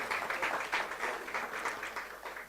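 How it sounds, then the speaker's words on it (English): Audience at a diaspora magazine symposium clapping in a hall, a steady pattering of many hands at moderate distance, evenly sustained with no talk over it. "Please, another round of applause for Mr."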